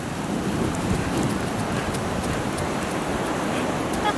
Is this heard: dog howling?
no